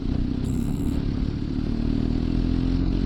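A BMW R1250GS motorcycle engine lugging at low revs, about 1500 RPM in sixth gear while riding, a loud steady deep rumble with some mechanical clatter throughout.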